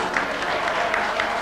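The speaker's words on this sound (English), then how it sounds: "People are clapping for it" A studio audience on a TV talk show applauds, a dense, even clapping that holds steady at full loudness through the whole stretch.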